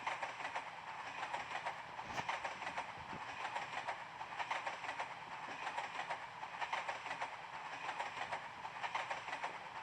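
A train in the Roblox game Piggy keeps rolling along the rails, a continuous rumbling clickety-clack at moderate level that goes on steadily without talking.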